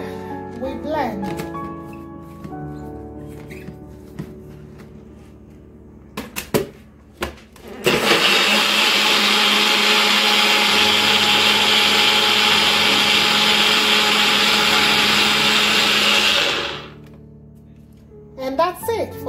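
A blender whirs loudly and steadily for several seconds while blending a turmeric almond milk smoothie with ginger, then stops. Before it starts there is talk and a few clunks as ingredients go in.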